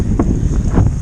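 Wind gusting across an open reservoir at a bream fishing match, a loud rumbling buffet on the microphone with a couple of stronger bursts.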